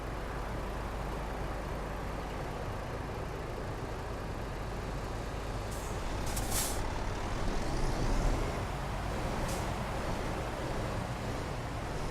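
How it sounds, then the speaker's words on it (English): A truck in Euro Truck Simulator 2 brakes hard with a steady loud engine and road rumble, then a sharp hiss of air brakes releasing, followed by fainter hisses. "Talk about slamming on the brakes there."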